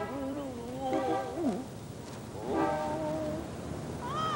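Several cats meow in short bursts of rising and falling cries over a noisy background.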